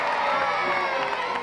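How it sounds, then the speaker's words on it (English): Parents, friends and children at a primary school centenary event cheer and shout together in a loud, dense burst of crowd noise. "Let's give them a big cheer. Hooray!"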